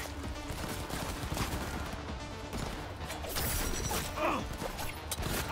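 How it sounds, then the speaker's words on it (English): A weapon reloads in Cyberpunk 2077 with quick mechanical clicks and clacks over busy, noisy game action and distant gunfire. "Reloading."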